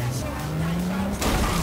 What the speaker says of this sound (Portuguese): Isso é muito ruim de dirigir esse carro, velho.